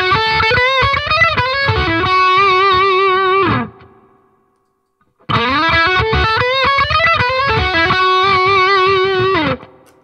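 An electric guitar plays distorted phrases through a Yamaha THR amp on its high-gain channel with a compressor. Two loud, sustained bursts are split by a brief silence, and no voices are heard.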